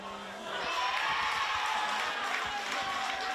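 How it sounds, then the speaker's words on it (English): A large crowd of Tamworth supporters roars at a state championship game, a broad, steady wash of cheering and noise that rises after a brief quieter opening and stays loud throughout. "Tamworth, they've got a big crowd here supporting. You can hear it."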